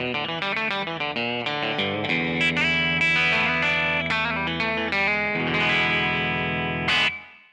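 Jazzmaster electric guitar on its bridge pickup, played as a flowing run of single notes and chords with a bright, slightly spiky edge, close and steady before the final note cuts off abruptly.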